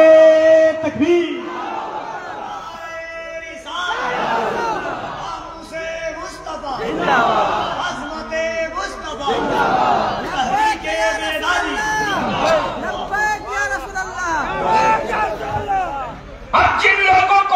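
A large crowd at a rally chants the Takbir slogan in response to a speaker: loud, massed voices shouting in repeated rhythmic bursts with brief gaps, dense and reverberant throughout.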